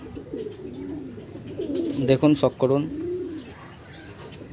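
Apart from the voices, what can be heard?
black-eyed Andhra pigeon cooing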